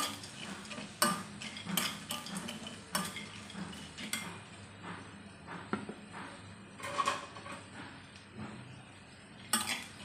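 Roasted sandge, lentil dumplings, are stirred and sautéed in a pan, a spoon scraping and clinking against the metal in irregular strokes over a faint low sizzle, with no voices present.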